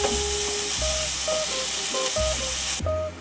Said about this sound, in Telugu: ఇలా వేసుకొని కలుపుకోవాలి అల్లం పచ్చి వాసన పోయే వరకు కలుపుకోవాలి